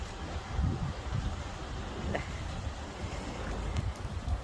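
Steady wind gusts buffet the microphone on the Lakshadweep coast in heavy rain, a continuous rumbling roar with rain hiss, close and fairly loud throughout.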